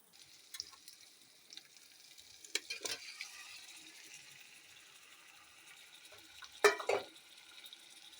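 Yogurt-marinated chicken fries in spiced oil as it is stirred: a faint, soft sizzle with scattered spoon scrapes and a couple of louder clanks against the pan.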